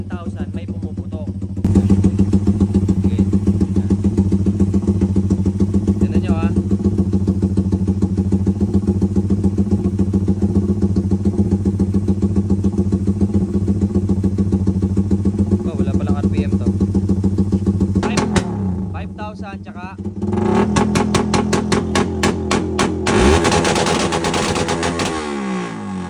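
A motorcycle engine holds a loud, steady drone for most of the time, then dips and bursts into rapid strings of crackling backfire pops near the end, close and harsh.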